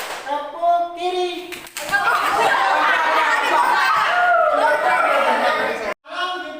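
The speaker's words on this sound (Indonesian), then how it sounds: "Sekarang tepuk kanan belum ya? Kiri dulu, sendiri dulu." Students in a junior high school classroom doing a hand-clapping game, bursts of claps mixed with children's chatter and giggles, broken by a teacher's voice giving instructions before and after.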